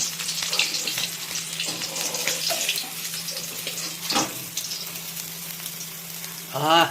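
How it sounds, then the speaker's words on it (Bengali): Tails of bhola bhetki fish frying in hot oil, giving a loud, steady sizzling hiss with crackles throughout and a brief louder spatter near the end. "এখানে কিন্তু ফাইনালি মাছের লাজাগুলো দেখুন ভাজা হয়ে গেল"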